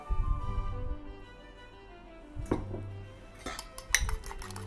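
Sugar, eggs and oil are mixed by hand with a whisk in a bowl for an apple cake, giving soft scraping and a few sharp clinks of the whisk against the bowl, close and fairly quiet, with no talk.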